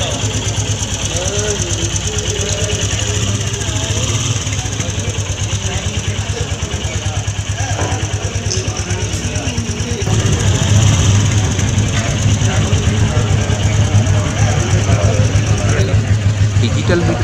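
Royal Enfield Meteor cruiser motorcycle engine running with a steady, throbbing thump, close and fairly loud, rising slightly in intensity partway through; a rider talks over it.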